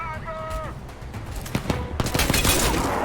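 Rapid gunfire in the shooter game Crysis 2, several quick bursts and shots ringing out near and loud, with a short electronic tone at the start.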